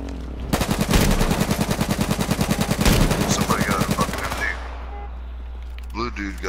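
A machine gun firing in H1Z1, a loud, rapid, steady burst of closely spaced shots lasting several seconds before cutting off, leaving a faint tail and some quieter game sounds afterward.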